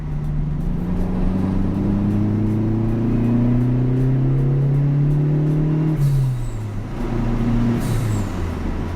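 Fiat Punto GT 1990s turbo hatchback accelerating hard, engine note climbing steadily in pitch for several seconds, then a brief drop at a gear change before pulling again, loud and close with no speech.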